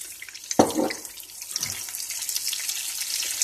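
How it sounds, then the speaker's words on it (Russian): Water is splashed into a hot pan of frying beef, cheese and carrot cutlets, a sudden loud burst settling into a steady close hiss and sizzle. "Добавляю воды"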